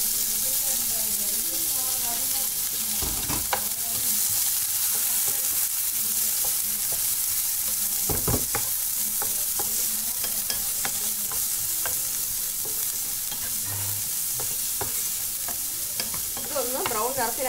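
Sliced onions fry in a pan for palak paneer, a continuous close sizzle with repeated scraping stirs and occasional utensil knocks, and brief faint talk now and then.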